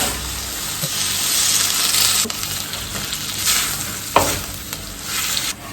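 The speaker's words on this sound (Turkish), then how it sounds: "Haşladığımız etleri böyle sacımıza döktüm. Şimdi azıcık sıvı yağ koyacağım ben" Boiled meat sizzles and fries in a little oil on a sac griddle, a steady close hiss with a few stirring scrapes and clinks throughout, with no talking.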